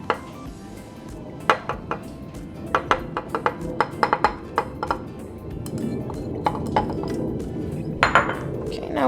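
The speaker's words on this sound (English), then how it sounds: "now we're just going to mix it all together until our cocoa has dissolved with our milks" Cocoa powder being mixed into milks in a bowl, a run of sharp utensil clinks and scrapes against the bowl in quick irregular bursts over a soft background hum.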